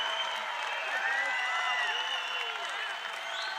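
A large, rowdy crowd at a Donald Trump campaign rally in Portland, Maine, in 2016 applauds and cheers continuously, with whistles and shouts mixed into dense, steady clapping that stays loud throughout.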